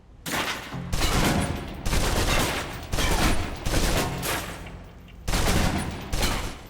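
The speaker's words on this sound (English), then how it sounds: "Now, let's move on to the submachine gun. I was doing that wrong. Now let's empty the clip." Submachine gun fire in the Alpha Protocol video game: about six sustained loud bursts back to back, each lasting around a second, with brief gaps between, no talking.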